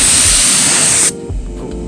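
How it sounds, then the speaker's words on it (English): A spray gun lays clear coat onto a Nissan S15, giving a loud, steady close-up hiss that cuts off abruptly partway through, leaving a quiet background. "I'm gonna spray, we don't care about light here, so we're gonna show you spray."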